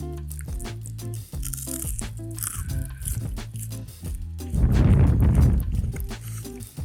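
Crunchy fried orange chicken bitten close to the mic, a run of repeated crisp crunches with a louder, denser chewing burst near the end.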